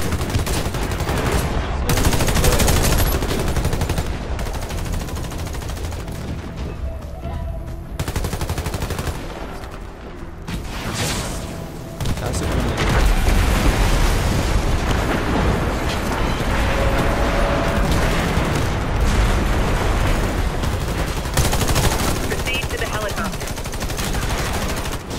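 Dense, continuous gunfire and booming rocket gun explosions from the online shooter game Warface, loud and sustained throughout with bursts overlapping, a brief lull near the middle, and a voice occasionally speaking underneath.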